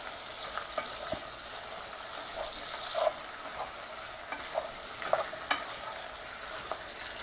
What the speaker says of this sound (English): We're going to just stir it up again.